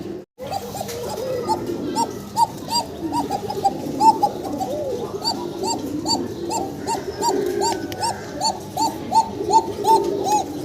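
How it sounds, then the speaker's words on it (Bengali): Fancy pigeons coo steadily in a rhythmic series of soft, repeated calls that overlap from several birds nearby, continuing throughout against a low background murmur. "প্রত্যেকটা কবুতর সুন্দর ডাকাডাকি করে"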